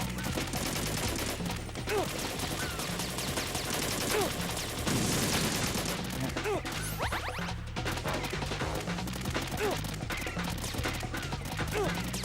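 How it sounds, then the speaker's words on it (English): Enemy soldiers firing at the player in Metal Gear Solid 2, a steady stream of rapid gunshots and crashing impacts running through the whole stretch, loud and dense with short sharp bursts layered over game noise. "How are they shooting through the wall?"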